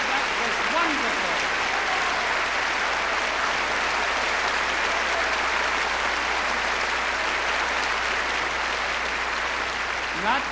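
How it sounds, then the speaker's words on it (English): Audience applause at a live touring show recorded in 1982, a dense, sustained wash of clapping from a large crowd lasting about ten seconds, with voices mixed in. "Not too much applause."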